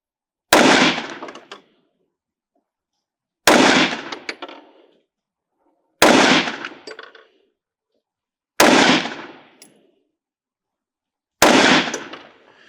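Five loud, sharp pistol shots from a Springfield Armory Echelon 4.5 F Comp firing Winchester Target and Practice FMJ ammunition ring out at a shooting range, evenly spaced about every two and a half to three seconds, each cracking then decaying into silence.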